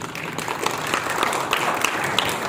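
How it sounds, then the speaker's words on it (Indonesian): An audience applauds during a public talk by an Indonesian minister on small businesses, a close, busy patter of many hands clapping at a steady level for a couple of seconds. "Tapi sebenarnya tepuk tangannya setelah yang satu ini."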